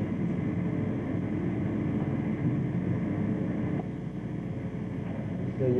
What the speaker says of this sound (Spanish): Se oye el ruido de los motores.